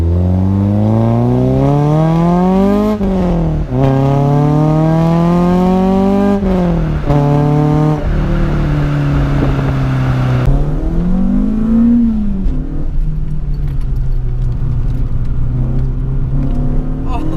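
A 2005 Renault Clio 182 hot hatch's engine revs hard and repeatedly, rising and falling in pitch as it accelerates through gears, loud and close, with a person talking over it.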